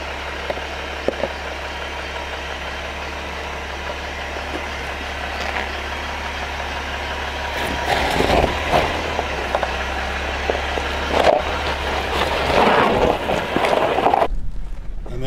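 A Jeep 4x4 crawls over rocks in first gear low range on an off-road trail, its engine idling with a low steady rumble, with occasional knocks and scrapes growing busier toward the end.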